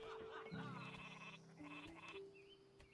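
Sheep in the strategy video game Northgard bleat in a couple of clear, wavering calls over a steady low game ambience, close and moderately loud.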